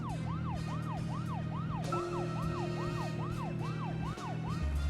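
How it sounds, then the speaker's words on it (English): Wailing police car siren from the video game Deadly Premonition, sweeping up and down in a steady repeating cycle over a low engine hum, loud and close with no talk. "You throw your sirens on to go faster."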